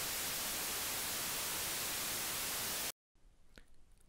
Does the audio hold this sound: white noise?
yes